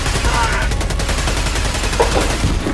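Sustained gunfire in Helldivers, bullets striking and bouncing off an armored enemy cannon, a rapid loud fusillade of repeated shots filling the moment with only faint game noise underneath.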